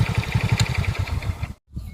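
A motorcycle engine fires up after a roadside repair and settles into a steady, rapid thumping idle close by, then cuts off abruptly before picking up again.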